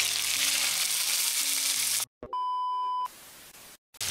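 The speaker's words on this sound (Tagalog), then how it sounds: "Nasalang na natin yung fish. So, prito lang natin siya" Saba fish sizzles and fries loudly in a hot pan, a dense steady crackle up close for about two seconds, then cut off by a sharp electronic beep tone and brief silence.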